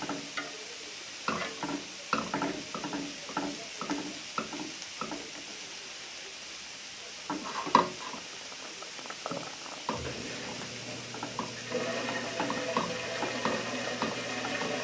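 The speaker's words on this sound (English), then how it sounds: "you want to whisk it constantly" Half a cup of grits being whisked in a pot on the stove, with a run of quick scraping whisk strokes and clinks, then a softer steady bubbling simmer.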